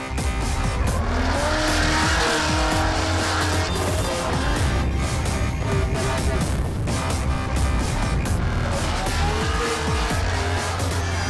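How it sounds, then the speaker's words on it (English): A Holden drift car slides at an Australian drift championship round, engine roaring and revving hard while the tyres squeal and skid continuously, close and loud throughout, with a brief commentator voice in the mix. "the Holden is a competitive drift car"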